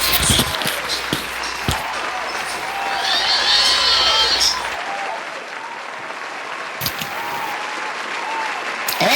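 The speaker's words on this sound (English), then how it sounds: "Let's give her another round of applause" Audience applause after a spoken-word poem performance, loud dense clapping with some cheering that swells midway and then thins into scattered claps and room noise.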